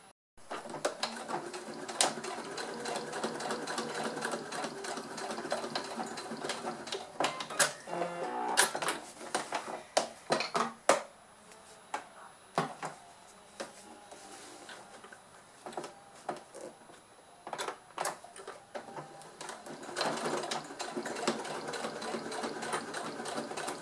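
Sewing machine stitching faux leather and piping for a weekend bag, running in quiet bursts of rapid mechanical ticking with short pauses and handling clicks between runs.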